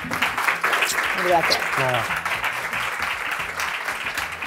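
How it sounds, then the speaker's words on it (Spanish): A studio audience applauds in a steady burst of clapping that carries through the whole stretch, while someone speaks briefly over it. "Vamos a darle un aplauso"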